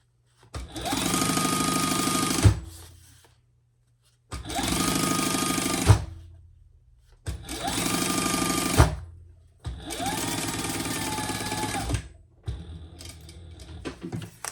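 Sewing machine stitching a detachable strap on a crossbody belt bag, four loud bursts of rapid stitching separated by short silences, each ending with a sharp clunk.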